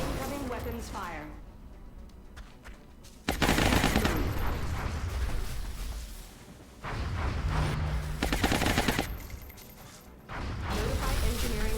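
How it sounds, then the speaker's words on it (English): Heavy weapons fire in the XCOM: Long War video game, with long loud bursts of rapid gunfire and booms in several waves, broken by quieter gaps with game voices speaking. "Incoming weapons fire."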